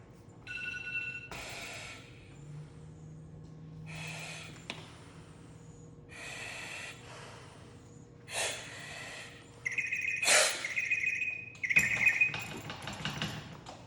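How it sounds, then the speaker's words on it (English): Firefighter's SCBA breathing apparatus taking a few test breaths: several separate hissing, airy inhale-and-exhale bursts through the regulator mask at close range, followed by a brief sharp whistle-like tone near the end, with no talking. "I'm gonna go ahead and take a couple test breaths."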